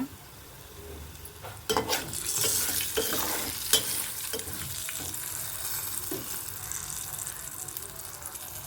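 Turmeric frying in hot oil as it is stirred in a pan for tamarind pulihora, a steady close sizzle broken by several sharper scraping stir strokes, with no talk.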